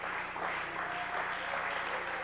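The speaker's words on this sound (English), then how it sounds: "Would you stand and clap your hands?" A church congregation claps together during worship, a continuous mass of hand claps at steady volume with music humming faintly beneath.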